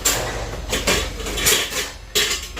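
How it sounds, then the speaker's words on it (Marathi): Washed dishes and pots put away in a home kitchen, with metal vessels clinking and clattering as they are stacked in a few close, bright knocks. "रात्रीचे भांडे घासलेले ते लावायचे बाकी आहे अजून"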